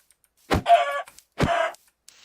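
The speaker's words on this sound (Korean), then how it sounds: "내가 지하로 내려갔을 때 배고픔을 대비한 닭과 돼지들을 잡고 있지." Two short chicken clucks from the Minecraft video game sound one after another, each a brief squawk followed by a faint pause, with no talking.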